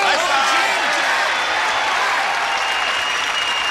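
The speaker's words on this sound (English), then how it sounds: "join us here in greeting our stars with a brisk round of applause" A studio audience breaks into a sustained, loud round of applause welcoming the stars, a dense wash of clapping with voices and cheers mixed in, easing slightly toward the end.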